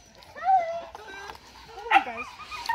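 Cane Corso puppies whimper and yip in a series of high, wavering whines, close and fairly quiet, with a louder cry near the middle.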